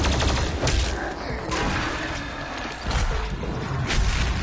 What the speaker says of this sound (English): shooting the plasma rifle basically gives the gun some overheating